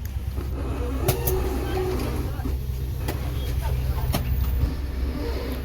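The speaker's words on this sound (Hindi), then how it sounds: "थोड़ा ट्रैफिक बढ़ गया" Road traffic on a street near Gohar in Mandi: a steady low engine rumble from passing cars and buses, with a few brief sharper vehicle sounds rising out of the continuous drone.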